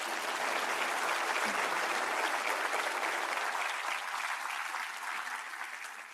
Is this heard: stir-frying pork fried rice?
no